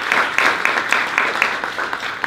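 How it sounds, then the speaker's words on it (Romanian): Applause for a jury member at a pub talk event: a small group clapping in loosely regular bursts, close and fairly loud, with no talk over it. "Să aplaudăm pe Teodora"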